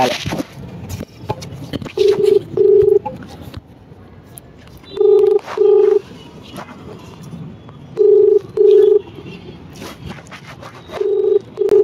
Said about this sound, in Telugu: ఇప్పుడైతే ఆమెకు ఫోన్ చేస్తున్నాం